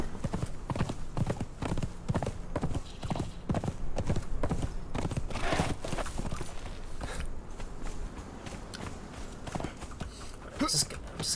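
Horse hooves clip-clop steadily in the video game Conan Exiles, a continuous run of close, rhythmic strikes with a brief whinny near the end, mixed with ambient game sound and someone talking over it.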